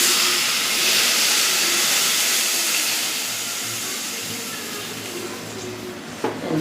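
Water poured into a hot pan for sambar sets off a loud, steady sizzling hiss that slowly eases, with a faint clink of a utensil near the end.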